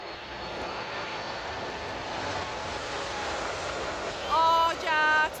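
A passenger airliner flies low near an airport, its engines giving a loud, steady roar throughout, with brief musical tones sounding near the end.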